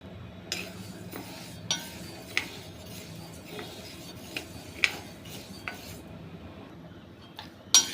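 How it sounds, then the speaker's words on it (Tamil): Urad dal being dry-roasted in a kadai, with a spatula scraping and clinking against the metal at irregular intervals over a quiet rustle of the lentils, close and fairly soft. "இப்போது இந்த உளுந்தை நல்லா பொன்னிறமாக ஆகிற வரைக்கும் வறுத்துக்கலாம்"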